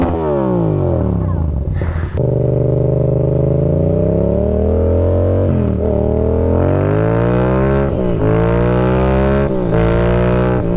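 A Yamaha MT-07 motorcycle engine revs hard and close during stunt practice, rising and falling in pitch through several throttle blips, with a short sharp break partway through.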